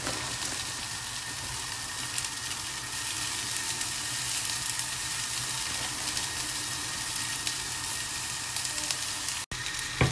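Potatoes fry in a pan with garlic and parsley, a loud continuous crackling sizzle that holds steady for the whole stretch, with a brief dropout near the end and no talking.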